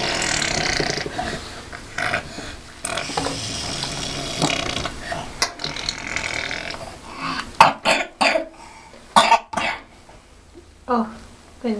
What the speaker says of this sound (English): It's a nasty cough.